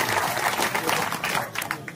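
A kirtan audience claps together in a steady, dense wash of applause that holds for the full stretch, with some voices mixed into it.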